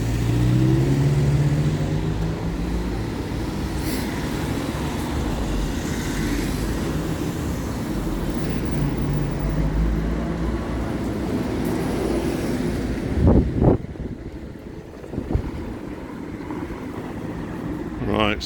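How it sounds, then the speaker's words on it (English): A big bus passes on Queen's Road in a town, a loud continuous engine rumble and roar that holds steady, with occasional thumps and someone talking over it. "we've got a nice big bus going to knock out the view, and another one just coming up behind me"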